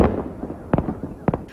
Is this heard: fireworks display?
yes